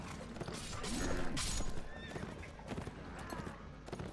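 A horse neighs loudly in the video game The Last Days of the Third Age, with clip-clopping hooves and battle clatter around it.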